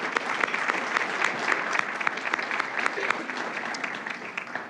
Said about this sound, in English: I'd like to ask for another round of applause to thank them for their support and active involvement